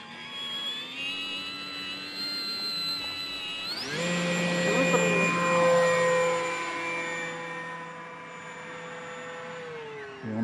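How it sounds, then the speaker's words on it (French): A Kavan Norden radio-controlled light aircraft makes a short takeoff with full flaps; a steady motor whine jumps to a louder, higher pitch as the throttle opens, then holds and slowly fades as the plane climbs away. "On va décoller cette fois-ci court avec les pleins volets."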